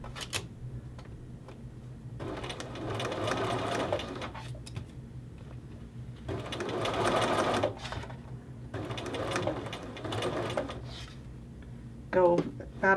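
A sewing machine runs in several loud bursts of reinforcement stitching on a men's shirt collar, pausing between runs, with a brief clatter near the end.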